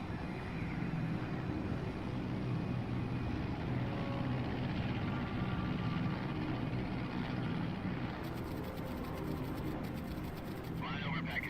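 An aircraft cruising at 30,000 feet over Pakistan gives a steady, unbroken low drone throughout, with faint clicking near the end.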